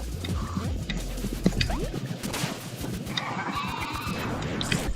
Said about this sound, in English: Jerome makes sheep sounds when you collect him